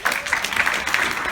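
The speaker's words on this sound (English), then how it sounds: "if you can also give her a round of applause" Audience applause at a White House event welcoming Valerie Jarrett to the podium: a short, dense burst of many hands clapping, steady and fairly close throughout.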